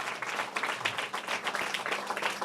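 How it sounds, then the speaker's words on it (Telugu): A church congregation claps together during a Sunday sermon, a steady mid-level wash of overlapping hands sustained throughout with no pauses. "ఒకసారి చప్పట్లు కొడదాం"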